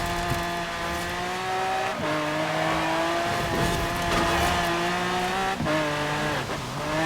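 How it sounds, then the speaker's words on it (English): A 1500-horsepower limousine in Forza Horizon 4 accelerates hard, its loud engine note climbing through gears in rising harmonic sweeps with brief dips at each shift, tire noise mixed in, steady and close throughout. "Great thing about a 1500 horsepower limousine is that the acceleration is actually quite good."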